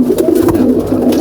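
Pigeons coo in a loft of mostly red pigeons kept for breeding and sale, a close, throaty rolling coo repeating in soft pulses with no talking.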